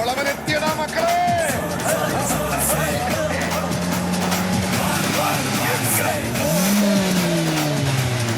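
The villains' car roars in during a film scene, its engine revving loud with tires squealing and skidding, mixed with background music and crowd babble.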